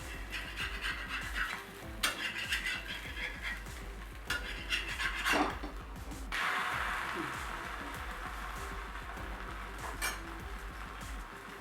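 A wheat uttapam being turned over on a hot oiled pan, with scraping and clinking of the spatula against the metal over a steady low background sizzle, a few sharper scrapes standing out near the middle.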